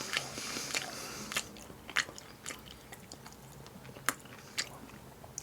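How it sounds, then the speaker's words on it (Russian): Soft close-up bites and chewing of Olivier salad and bread during a mukbang, with quiet crunches and scattered sharp clicks over a low background hiss, no talking. "Ну що, поїхали хавати."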